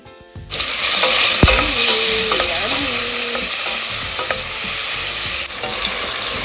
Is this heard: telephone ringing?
no